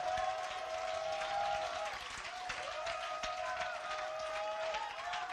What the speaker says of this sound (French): Ça mérite une acclamation.